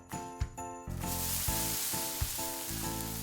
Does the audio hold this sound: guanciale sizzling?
yes